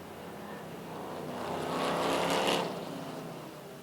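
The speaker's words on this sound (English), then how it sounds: "We got cars scattering down pit road." Race cars run on an oval track during a racing event, a passing engine drone that swells to a peak and fades, moderately distant.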